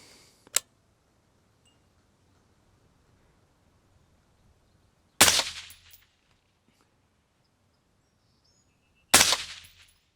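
Three sharp PRI MK12 Mod 0 rifle shots aimed at a steel silhouette target 1,000 yards away, loud and close, spaced several seconds apart with brief decaying tails and near silence between them.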